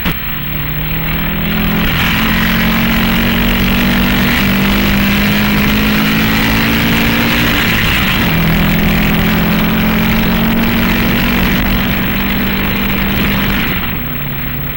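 A race car drives flat out around the Road America circuit in 1958, its engine a loud, sustained droning roar with pitch sweeps as it accelerates, eases off and climbs again, fading slightly at the very end.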